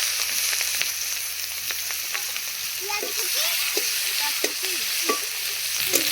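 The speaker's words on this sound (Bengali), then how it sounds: "সেই একই তেলে দিয়ে দিদা দিয়ে দিচ্ছে পাঁচ ফোড়ন তারপর দিয়ে দিচ্ছে পেঁয়াজ কুচি" Panch phoron spices and chopped onion frying in oil, a steady close sizzle with scattered crackles and occasional scrapes of stirring.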